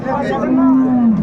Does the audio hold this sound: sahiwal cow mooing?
yes